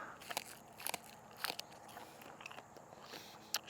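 A crisp Egyptian walking onion, a green onion, is bitten and chewed up close, giving a series of sharp, crunchy bites and crackles spread irregularly through a quiet background with no talk.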